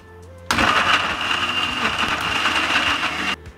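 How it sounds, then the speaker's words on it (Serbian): A blender grinds sunflower seeds, pitted dates and water, starting abruptly into a loud, steady motor whir with churning grit, running a few seconds and then cutting off sharply. "Poklopit ću i sve ću ovo samleti."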